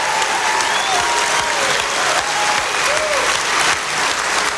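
Loud, sustained applause from a large crowd at a Donald Trump political rally in Greenville, North Carolina, continuous dense clapping with faint whistles and cheers mixed in.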